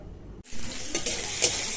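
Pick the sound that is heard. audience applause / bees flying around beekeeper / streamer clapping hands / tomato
tomato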